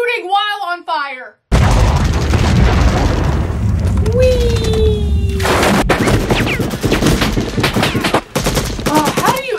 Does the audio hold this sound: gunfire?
yes